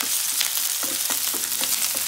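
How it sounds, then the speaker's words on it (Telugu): Curry leaves splutter in hot oil with a dense, continuous sizzle broken by rapid crackling pops, close and loud, with no talking. "చిట్పట్ కరివేపాకు."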